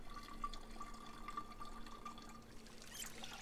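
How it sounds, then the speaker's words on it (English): Water running from a tap into bottles in the Project Zomboid video game, a faint steady trickle and pour with a thin tonal hum beneath it. "Fill up some water."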